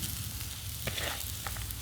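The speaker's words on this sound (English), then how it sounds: "You hear that sizzle? That tells you that your pan is ready." Grated potatoes for hash browns hit an oiled frying pan, giving a steady, close hiss of sizzling oil with faint crackles, heard alone without voices.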